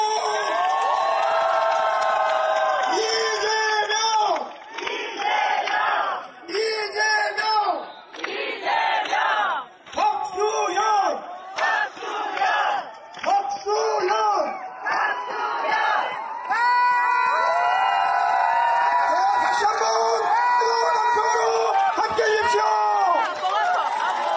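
A large crowd at a Korean general election campaign rally roars, cheers and chants in loud surging waves. Whistles and shouts rise and fall, and an amplified voice leads them at times.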